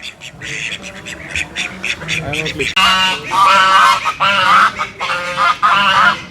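Farm geese, alongside ducks and goats, honk loudly and repeatedly at people, the calls rising into a harsh, insistent chorus close by.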